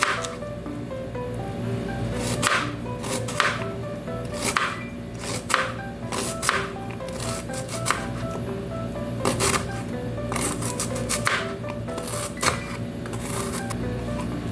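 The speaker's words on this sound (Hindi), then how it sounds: "अनियन को कट कर लेंगे।" A knife chops onions on a board for methi aloo, giving a series of sharp, irregular strikes that repeat throughout over a faint steady hum.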